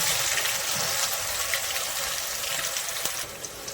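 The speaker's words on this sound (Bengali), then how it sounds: "গ্রাইন্ডার ধুয়ে" Water running from a kitchen tap while a spice grinder is rinsed, a steady hissing gush held throughout at moderate volume, with faint clinks near the end.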